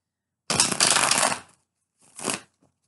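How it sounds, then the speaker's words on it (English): Two quick bursts of tarot cards being riffled and shuffled, a longer riffle followed by a shorter one, close and fairly loud with no talking. "one more shuffle"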